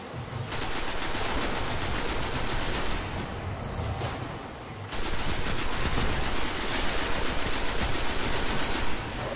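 Rapid automatic gunfire from a Hive captain's gun in the video game Destiny, loud dense bursts rattling almost continuously with one brief lull midway.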